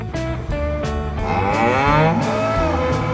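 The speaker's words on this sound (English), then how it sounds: "She is mooing for her calf." An adult Angus cow lowing for her calf on a farm, one long, loud, close moo with a rich harmonic tone, heard alone.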